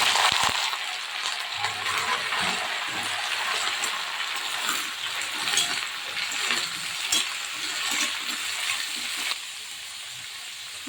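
Washed vegetables tipped into a pan of lightly roasted cashews, a busy clattering and crackling sizzle with small clinks and shuffles throughout, close up, quieter near the end.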